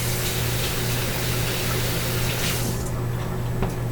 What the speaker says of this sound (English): Gotta wash my hands a little bit here.